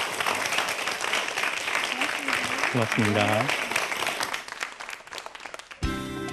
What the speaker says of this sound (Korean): 오늘 아주 재미난 강의를 해주신 우리 이재희 교수님께 여러분 박수 한번 부탁드리겠습니다.